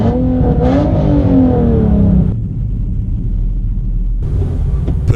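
A car at a drag race accelerates hard, a loud rising engine roar climbing in pitch through a shift, then cutting to a lower rumble and idle before more engine noise returns near the end.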